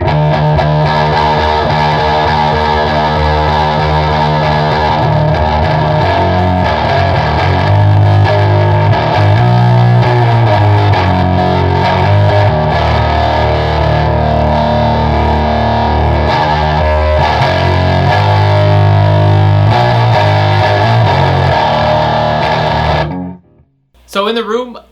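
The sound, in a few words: guitar through DOD FX56 American Metal distortion pedal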